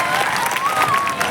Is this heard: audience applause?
yes